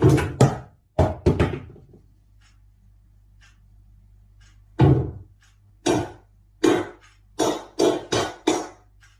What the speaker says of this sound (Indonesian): Terdengar suara ketukan dalam kamar mandi